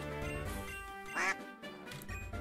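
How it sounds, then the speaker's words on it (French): A cartoonish duck quack from a Pokémon fangame, Aube & Crépuscule, sounds once, brief and fairly loud, over steady game music. "le bruit du canard me flingue"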